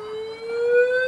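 Siren sound generated on an Apple II computer, a steady electronic tone with buzzy harmonics that slowly rises in pitch, loud and alone.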